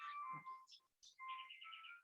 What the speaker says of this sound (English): Sorry, I didn't turn my phone off.